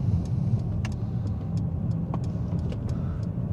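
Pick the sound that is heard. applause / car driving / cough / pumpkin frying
car driving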